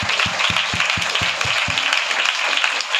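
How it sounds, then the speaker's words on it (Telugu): A large audience clapping loudly in a continuous dense roar of applause, with a few strong rhythmic claps standing out at first, no speech over it. "ఒకసారి గట్టిగా చప్పట్లు కొట్టాలి"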